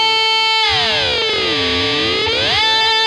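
An electric guitar played through a whammy pedal in octave mode with prime distortion: one loud, sustained, bending note with thick harmonics and sweeping pitch swoops.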